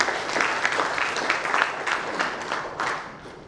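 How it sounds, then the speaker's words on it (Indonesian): An indoor audience at an official provincial economic event gives a short burst of applause, dense clapping that swells and then fades within a few seconds. "Kita terima kasih dan tepuk tangan untuk Pak Jokowi."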